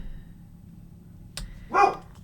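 A dog gives a single sharp bark, close and fairly loud, following a brief click in an otherwise quiet indoor room.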